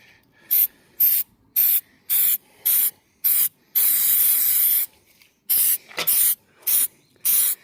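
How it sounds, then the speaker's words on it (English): Short bursts of sealant spray hissing from an aerosol can onto a Saab 9-3 Convertible, about a dozen quick evenly spaced puffs with one longer continuous spray in the middle. "I think it pays just to give it a light spray, not to run too much"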